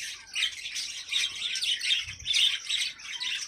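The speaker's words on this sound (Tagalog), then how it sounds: "Lovebirds. Lovebirds." Lovebirds from a large flock chirping in dense, overlapping bursts of shrill, high tweets, close and loud, with nobody speaking.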